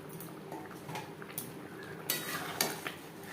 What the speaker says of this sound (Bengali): গ্রেভির সাথে ডিম বেশ ভালো করে মিক্স করে দেব